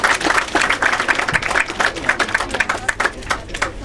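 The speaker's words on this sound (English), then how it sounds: "Come on, big round of applause." An audience at a tutors' awards ceremony breaks into lively applause, many hands clapping in a dense, fast, continuous patter that fills the room.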